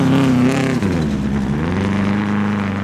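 Rally car engine revs hard and continuously while sliding on snow, leaning on snowbanks during a winter rally, a loud, steady roar with rising and falling pitch.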